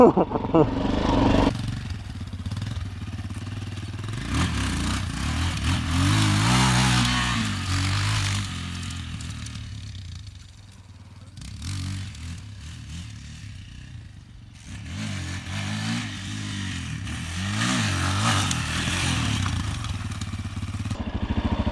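A Chinese Forte CBA 250 enduro motorcycle being ridden, its single-cylinder engine buzzing and revving up and down with rattling and clatter, close and loud throughout, with a voice speaking over it at times.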